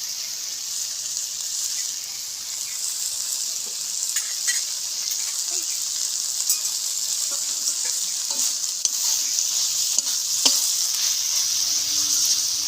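Bitter gourd and greens curry frying with poppy seeds in a pan: a steady, close hiss of sizzling oil throughout, with occasional soft clicks and scrapes of stirring.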